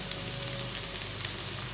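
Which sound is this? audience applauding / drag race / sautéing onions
sautéing onions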